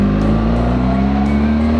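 A car engine drones loud and steady with a strong low hum on a mountain switchback road between Germany and Italy, passing close with no talking.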